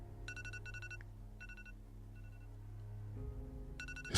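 A morning alarm rings in short repeated bursts of bright electronic beeps, a few rapid pulses per burst with gaps between, faint and steady over a low hum, with no one speaking.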